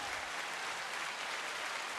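Steady applause from a crowd, a dense wash of claps that holds at an even level without breaks, heard from some distance and fairly soft.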